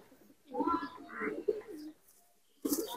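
Malwai pigeons in a loft, among them a small-sized hen, give a few soft, close coos in short bursts separated by quiet gaps.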